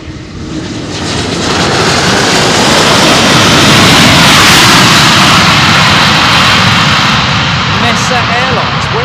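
A Mesa Airlines jet idles and spools on the runway entry at Louisville, its broadband engine roar swelling to a loud steady peak mid-way and holding close by, with people talking over it.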